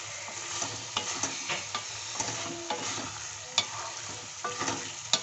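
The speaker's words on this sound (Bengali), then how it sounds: "অল্প পরিমাণ দিয়ে আমি নেড়ে চেড়ে উঠিয়ে নেব সবজিটি" Eggplant curry being stirred in a pan after a small amount of garam masala is added, with scraping spoon strokes and a soft steady sizzle throughout, sounding close and fairly quiet with no voices.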